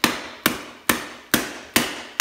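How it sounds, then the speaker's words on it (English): The small hatchet end of a portable camping multitool chops an unbraced piece of wood about an inch thick, six sharp, evenly spaced whacks ringing out close and loud with nothing else. "see if this little hatchet end is good enough to cut a piece of wood that's maybe about an inch in diameter"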